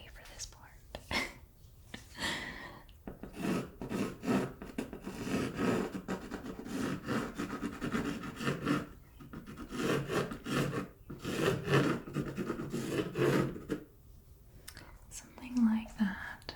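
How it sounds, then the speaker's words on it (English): Pencil sketching on paper ahead of an oil painting, a dry abrasive scratching and rubbing in repeated strokes, close and steady, with soft whispered talk mixed in. "the pencil portion of this is going to be like the most abrasive sounding"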